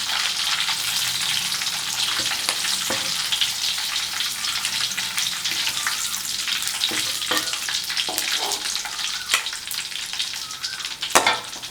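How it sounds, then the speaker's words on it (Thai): Beef pieces frying in hot oil, a loud, continuous close-up sizzle with crackling pops and occasional stirring clicks, and no voices. "เราจะไม่ทอดจนจนมันแข็งนะฮะเราเอาแค่สุกพอ"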